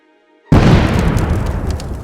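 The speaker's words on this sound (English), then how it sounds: "A sudden surge caused a massive explosion, followed by a fast-spreading fire" Massive explosion from an unstable chemical experiment at a school in an animated horror story, bursting suddenly from near silence into a loud, sustained rumbling roar.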